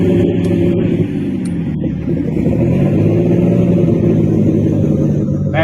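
A light super stock pulling tractor's engine rumbles loud and steady throughout, a deep, continuous mechanical roar close by with no talk over it.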